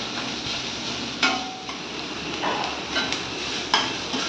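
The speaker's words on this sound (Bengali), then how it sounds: "ওই তেলের মধ্যে আমি লঙ্কা ভাজলাম, রসুন ভাজলাম, পেঁয়াজটাও ভেজে নেব।" Chili, garlic and onion fry in hot oil in a Bengali home kitchen, giving a steady close hiss and crackle broken by a few soft stirring knocks.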